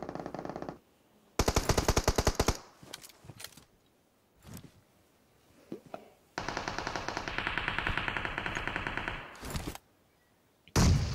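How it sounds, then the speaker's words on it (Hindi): Automatic gunfire from a mobile battle-royale shooter game, with long rapid bursts of machine-gun fire separated by near-silent gaps and a few isolated shots, loud and without speech. "अब मेरे भाई राइट से भी बहुत तगड़ा फायर हो रहा था"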